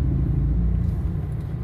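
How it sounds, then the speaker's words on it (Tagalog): Road traffic in the Philippines near Marikina, a low steady rumble of car engines and tyres close by, continuous and fairly loud with no talking. "Traffic."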